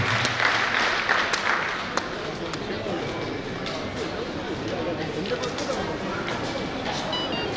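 Audience applause fills a Corona warrior honour ceremony in a hall, a steady dense wash of clapping from a large crowd that holds fairly even throughout, with faint voices mixed in.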